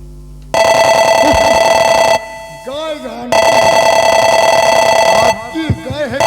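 An electronic telephone ring repeats twice, each long steady trilling burst followed by a pause in which a voice speaks.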